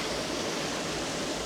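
Talla Falls at Talla Reservoir roars on a rainy day, a dense, steady wash of falling water with no pauses or voices.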